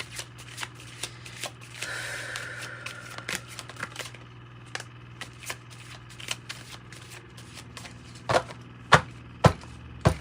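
Osho Zen Tarot cards, blended with a Kipper fortune-telling deck, are shuffled by hand in a quiet room, making soft riffling and sliding sounds, then several sharp taps and knocks as the deck is squared near the end.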